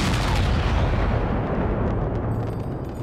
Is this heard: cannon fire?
yes